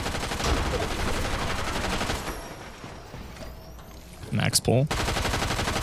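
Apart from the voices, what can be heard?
gunfire in the Fortnite video game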